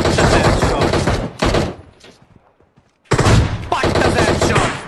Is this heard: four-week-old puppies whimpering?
no